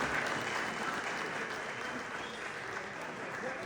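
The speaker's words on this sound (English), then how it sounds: "y'all give those guys a round of applause" Sustained applause from a gathered crowd at a Boynton Beach football community event, steady dense clapping heard at a moderate distance without pauses.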